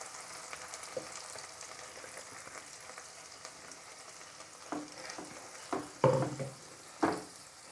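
A steady sizzle of apple puree frying in ghee, with occasional scraping and clinks from a spoon stirring in the pan, getting louder toward the end.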